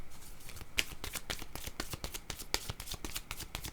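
Oracle cards being shuffled by hand, a quick run of crisp papery riffles and slaps close up, steady and continuous with no talking.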